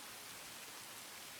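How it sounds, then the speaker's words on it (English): Steady rain in the visual novel Tsukihime: A Piece of Blue Glass Moon, a soft, even hiss of falling drops with no break, faint and wide rather than close. "This hissing in my ears is the sound of rain."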